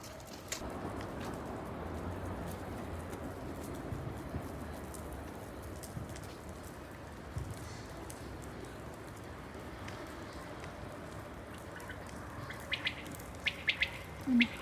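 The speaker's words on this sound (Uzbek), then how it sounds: "qo'shni podyezdlardan bittasida shunaqa bedana bor-da," A quail kept at a neighbouring apartment block calls outdoors in short chirps. The calls are faint and distant over a steady background hum, with a few sharper calls near the end.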